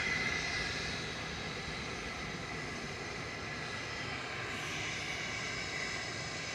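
An Embraer Phenom business jet of Coair Aviation, heading out of Manchester Airport to Dublin, gives a continuous, fairly loud jet roar that holds steady and shifts slightly in tone near the end.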